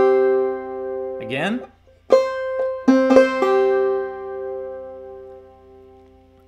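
Clawhammer banjo picks out a short melodic phrase of Snowdrop with drop-thumb notes, a few bright plucked tones ringing out and sustaining, close up, with a brief spoken word near the start.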